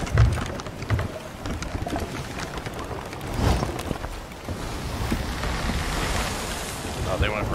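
Ocean waves in the Sea of Thieves video game wash and rumble steadily throughout, a broad continuous surf with wind-like hiss, moderately loud with occasional swells.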